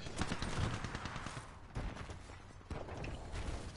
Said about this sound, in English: I shot this guy in the head and I hit marker